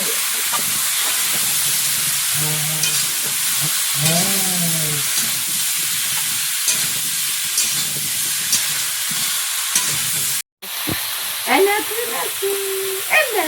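Spices of turmeric, salt and cumin fry in hot oil in a pan, giving a constant loud hissing sizzle. A voice speaks intermittently over it, and there is a brief dropout near the end.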